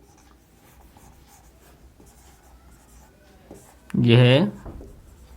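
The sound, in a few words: writing on a board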